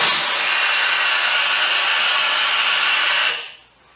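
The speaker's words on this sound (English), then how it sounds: "So let's have a look at how much steam it outputs." A Morphy Richards Steam Elite steam iron lets out a loud, steady hiss of steam that holds evenly for about three seconds, then cuts off and fades to near silence.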